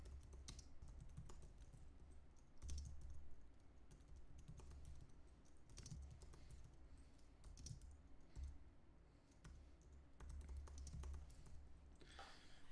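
Steady clicking keystrokes on a computer keyboard while entering code, irregular bursts of taps close to the microphone, fairly quiet with no speech.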